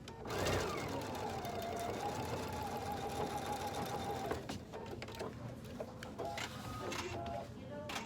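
A sewing machine stitches along a seam line on a cork handbag panel, running steadily and fairly loud for about four seconds, then breaking into shorter bursts of stitching.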